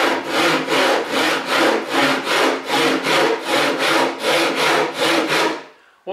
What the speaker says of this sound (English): bringing it backwards across the work and gradually lowering the saw down to a horizontal position